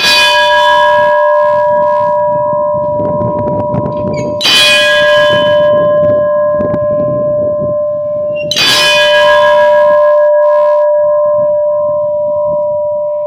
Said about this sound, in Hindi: ये लो जी, कितना लंबा ओम निकल रहा है भाई घंटी से।